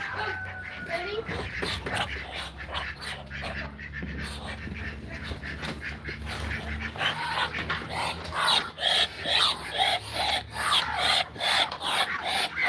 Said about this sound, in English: All the dogs are coming out.